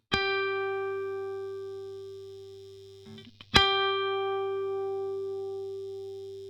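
Clean electric guitar run through a compressor pedal: a single note rings out long and evenly, then a second note is struck and sustains almost without fading, with no talking.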